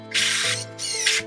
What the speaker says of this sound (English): I add the two 14 gauge screws on one end